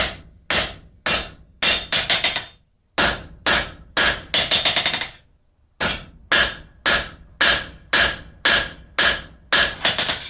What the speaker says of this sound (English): Planish this up on the anvil face.